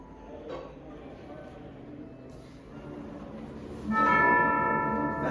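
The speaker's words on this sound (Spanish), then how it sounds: "Las campanas de la iglesia." Church bells ringing for the Angelus, a faint early strike followed by louder, resonant bell tones with lingering overtones near the end, heard over low background hum.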